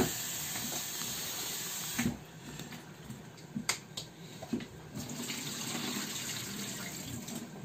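Tap water runs over raw meat in a home kitchen sink while the salt is washed off. The stream is a continuous soft hiss with a few sharp splashes and clatters, fairly close and not loud, and no one speaks.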